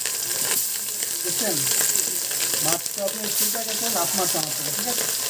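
Fish frying in hot oil in a home kitchen, a dense continuous sizzle with clinks and scraping of a utensil against the pan, close and fairly loud.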